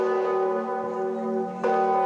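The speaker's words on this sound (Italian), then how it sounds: "risuonano le campane della Basilica Cattedrale perché oggi è il giorno dell'ultimo saluto ad Alessandra Frazzica" Church bells of the Basilica Cathedral in Messina toll for a funeral, a sustained ringing with a long resonant hum, then a fresh clear strike near the end, sounding alone.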